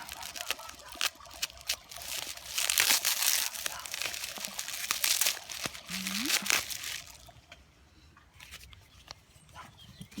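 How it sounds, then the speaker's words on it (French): Packaging crinkles and crumples up close as a parcel holding a salt candle is unwrapped, with bursts of rustling and tearing that fade to quieter handling near the end. "J'adore déballer les colis."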